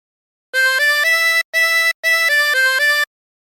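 Harmonica playing the fiddle tune Turkey in the Straw, a short phrase of clear reedy notes in three bursts with brief gaps, loud and close with nothing else heard.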